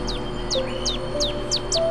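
Long-legged, long-toed chicks and birds foraging outdoors give quick, thin, downward-sliding chirps, about five evenly spaced calls at moderate distance over steady background noise.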